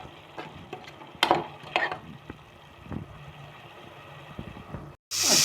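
Mint and coriander leaves sauté in a pan, giving a soft sizzle broken by scraping stirs and a few sharper clatters of the spoon, with no talking.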